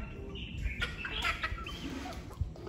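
Backyard chickens in Liberia cluck softly several times, moderately close, with light rustling and no talk.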